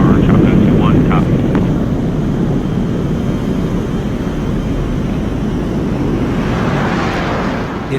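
A fighter jet climbs out from Nellis during a Red Flag exercise, its engine roar a loud, steady, broadband rush with wind buffeting that holds for the whole stretch and brightens slightly toward the end.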